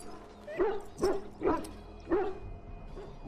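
Dog barks from Dragon Age: Origins, four sharp, fairly loud woofs spaced about half a second apart over a steady game background hum.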